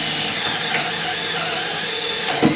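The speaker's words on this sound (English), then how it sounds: "We drilled into the wall." A power drill whines loudly and steadily as it bores into a wall near a beam during wiring work, a close, continuous high-pitched grind with a small thump near the end.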